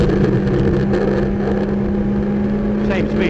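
A race car lapping the Sebring circuit, a loud steady engine drone from inside the cockpit with a strong tonal hum and shifting pitch, under continuous talk from the driver.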